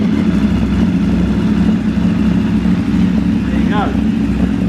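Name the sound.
car engine starting up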